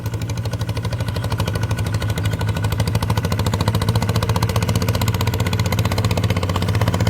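A walking tractor running in second gear while working a sandy rice field, its engine chugging in a loud, steady, rapid rhythm throughout with no pauses.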